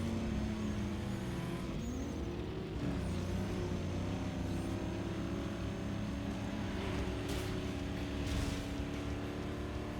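Car engines in the racing video game Need for Speed Underground 2, with a steady loud roar and several overlapping engine tones that rise and fall as the cars accelerate and shift, continuous throughout.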